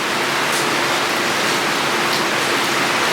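Steady rain pours down outside a home kitchen, a dense, even hiss of drops that fills the space without pause or voices.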